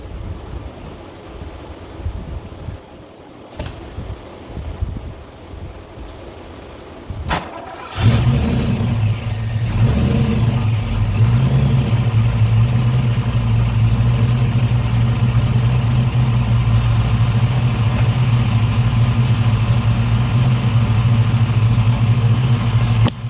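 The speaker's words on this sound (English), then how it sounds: "So here we're gonna go with our start." A Foxbody Mustang with a freshly swapped F303 cam and new head gasket cranks briefly and fires up, then settles into a loud, steady, lumpy idle close by, with some wind buffeting before the start.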